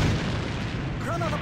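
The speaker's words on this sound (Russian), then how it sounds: "Бросаю гранату!" Grenade explosion in a shooter game, a loud booming blast with heavy low rumble lasting through the moment, with a faint shouted voice near the end.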